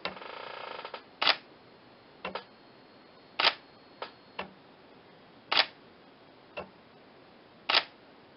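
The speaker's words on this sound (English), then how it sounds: "It's going to keep taking photos" A camera shutter on a DIY focus stacking rail fires repeatedly, giving about six crisp, close clicks at uneven intervals of roughly one to two seconds, with a faint mechanical whir between some shots in a quiet room.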